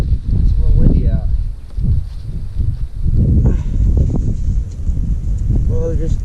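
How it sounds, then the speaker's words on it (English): Gusty wind rumbles and buffets the microphone outdoors during a tent shelter repair, with a person talking over it throughout. "It's a little windy out."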